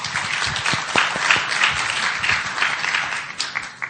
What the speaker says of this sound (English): Would you like to say hello to and welcome Valerie, please, with a round of applause?